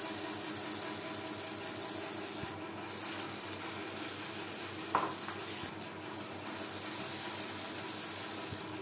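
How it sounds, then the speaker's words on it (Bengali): Batter-coated stuffed kakrol (spiny gourd) frying in plenty of hot refined oil over high flame, giving a steady, dense sizzle with a few faint clinks throughout and no talking. "কাঁকরোল একটু সময় নিয়ে ভাজবো, যেহেতু কাঁকরোল আমি সেদ্ধ করিনি।"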